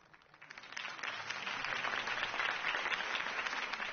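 Steady crowd applause in the video game Batman: The Telltale Series swells in over the first second and holds as a dense wash of clapping, moderately loud, with no voices over it.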